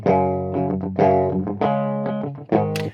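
Electric guitar played through an amp with a Mesa Boogie simulation and the cabinet screen switched on, giving a round, distorted tone as several sustained chords and notes ring out in sequence, loud and close, with no talk.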